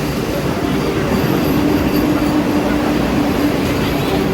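Vande Bharat Express train running at speed on the Mumbai to Solapur line, a steady loud rumble of wheels on rail with a faint high squeal, continuous throughout.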